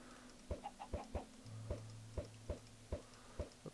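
Clucking chickens at an egg farm in a video game, a series of short, evenly spaced clucks over a faint steady electronic tone, nearby and quiet, with no speech.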